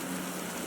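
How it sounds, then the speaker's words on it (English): Rain falls as a steady, dense hiss with no breaks or other sounds. "Can we actually fly in this rain?"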